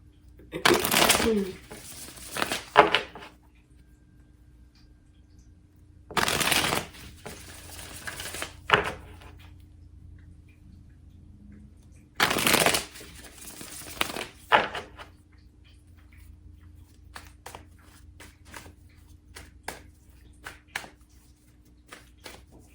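Tarot cards shuffled by hand in several loud bursts of riffling and flapping, separated by quieter gaps with soft handling noises.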